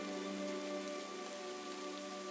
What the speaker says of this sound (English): Oh, yeah, it's still raining outside.